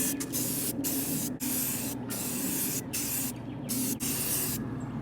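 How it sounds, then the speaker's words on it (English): Spray paint hisses onto a box van panel in several steady bursts with short pauses between them, close and loud with no talking. "I'm just going to spritz this just to see what the color looks like on here"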